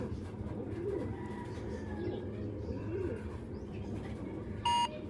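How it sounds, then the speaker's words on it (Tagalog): Pigeons coo in soft repeated low phrases, close by, over a steady rumble of outdoor background noise, with a short electronic beep near the end. "Yan mga kalapatids."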